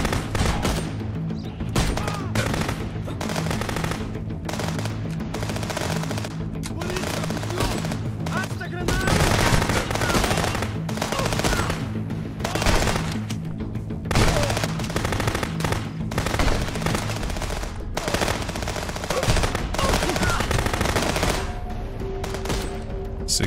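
Gunfire in the Contraband Police game, heard as dense, loud volleys of rapid automatic shots and booms that go on for over twenty seconds with only brief gaps.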